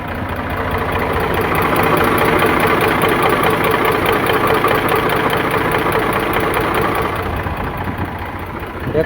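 A 2015 Eicher 485 tractor with power steering idles close by, its diesel engine giving a steady, loud, even knocking chug for the whole stretch with no talk over it.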